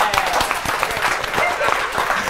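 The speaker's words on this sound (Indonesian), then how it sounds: "tepuk tangan dulu nih, baru boleh nih tepuk tangan nih" An audience applauds at a live talk show event, with dense, steady clapping and a few sharp individual claps. A voice talks over it throughout.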